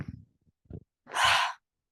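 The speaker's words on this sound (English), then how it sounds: "Breathe out, making a sound of ha" Breath pushed out through the open mouth with an audible "ha" during a yoga pawanmuktasana exercise, one breathy exhale of about half a second that follows a few soft low sounds.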